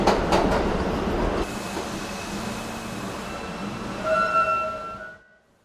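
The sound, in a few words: Seoul subway train running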